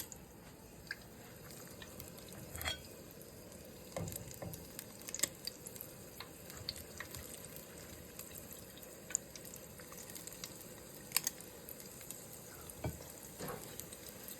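Apple fritters fry in hot oil, a soft, continuous bubbling sizzle heard faintly at a distance, broken by scattered small pops and spoon clicks.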